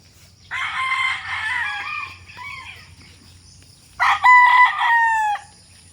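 A rooster crows loudly and close, a long warbling call followed by a second crow after a short pause, with faint background hum and no talk.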